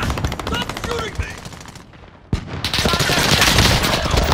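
Gunfire in Call of Duty Warzone, with rapid automatic bursts in quick rhythmic strings, a sharp single shot after a short lull, then dense, loud sustained firing.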